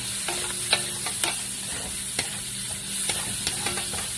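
Onions sautéing in butter in a pan for Filipino-style spaghetti, a steady close sizzle with a few sharp scraping clicks of a utensil against the pan, no talking.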